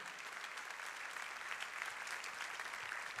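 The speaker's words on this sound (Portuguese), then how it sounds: "Vamos aplaudir ao Senhor, vamos aplaudir de verdade" A church congregation claps together in sustained, even applause, fairly faint and distant, a dense wash of hand claps that carries on without pause throughout.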